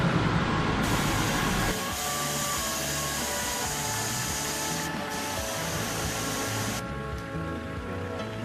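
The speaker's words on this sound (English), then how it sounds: "it's not long before we have to let some air out of the tyres" Air hisses out of a 4WD's tyres on soft beach sand in Cape York. A loud, continuous broadband rush runs for the whole stretch, shifting level a few times as valves are worked.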